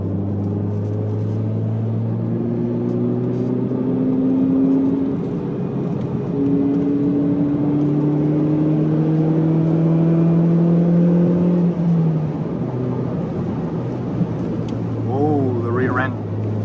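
A Ford Mondeo MK3 engine drones and climbs through the gears on a spirited mountain pass drive, heard from inside the car with rising and falling revs and steady road rumble, and a voice briefly speaks near the end.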